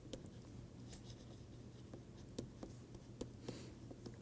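A pen or marker writing out a mathematical proof by hand, heard as faint scratchy strokes and soft taps at irregular intervals over a steady low background hum, with no talking.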